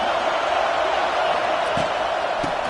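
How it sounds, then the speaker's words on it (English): A football crowd roaring in a steady, wide wash of cheering noise that holds at an even loudness, with a couple of faint thumps. "It's early, but this crowd is fired up. Listen to this noise here."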